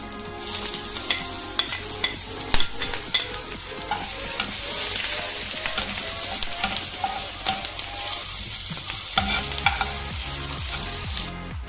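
Cinnamon and ginger fry in hot oil for a Kerala-style brinjal roast, giving a steady sizzle with frequent stirring scrapes and clinks throughout, fairly close and with no voices.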